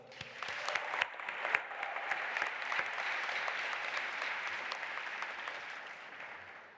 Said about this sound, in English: Please join me in applauding those who made today possible.